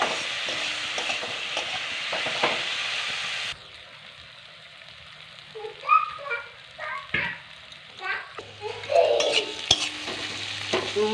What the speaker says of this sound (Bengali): আলুটা দিয়ে একটু ভালো করে ভালো করে মেরে কষিয়ে নেবো